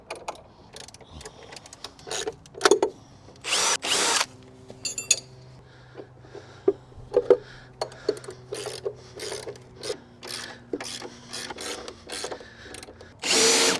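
A power drill drives bolts joining wooden deck frames, sounding as repeated short, loud whirring bursts with pauses between them, plus clicks and knocks of handling the timber up close.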